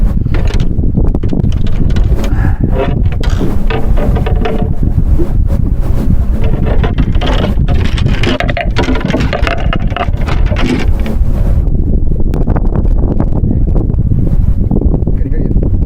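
Strong wind roars steadily across the microphone throughout while fishing from a boat, with a constant heavy buffeting rumble that masks other sounds.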